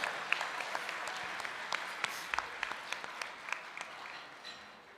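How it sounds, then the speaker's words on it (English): Applause breaks out at a senior inspiration awards ceremony, a scattered crowd clapping steadily for about five seconds before trailing off, fairly soft and slightly distant. "Give them both a round of applause."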